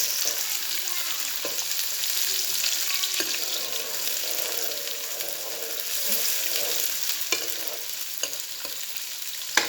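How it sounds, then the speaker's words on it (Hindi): Steady sizzling and crackling of onions frying in hot ghee, with occasional stirring scrapes, close and continuous throughout. "जब घी अच्छी तरह गर्म हो जाए तो उसमें डालेंगे प्याज"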